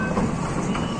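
A Jaipur Metro train runs between stations with a steady, continuous rumble and rolling wheel noise that holds close and even throughout, with no talk over it.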